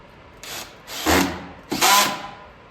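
A power drill drives screws into a wooden cornhole cart caddy in three short whirring bursts, each rising and slowing as a screw seats, close and clear with brief pauses between.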